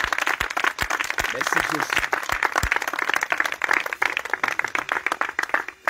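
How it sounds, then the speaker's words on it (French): A congregation at a prayer vigil claps loudly in rapid, sustained applause with cheering voices, lasting throughout, while a voice speaks over it. "On acclame le Seigneur."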